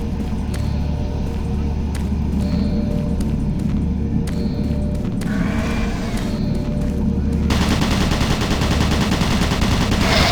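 Doom 3 automated turret guns shoot in scattered, close gunfire bursts over a constant droning background, which gives way to a dense, continuous roar of noise during the last few seconds.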